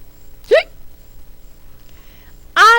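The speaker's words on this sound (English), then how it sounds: "I've got the hiccups" Two sharp, voiced hiccups from a child, close and loud, separated by about two seconds of near silence.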